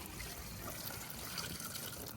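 Gasoline poured down into a part sitting in a pan for soaking, a continuous close liquid pour with a steady splashing trickle that runs without a break.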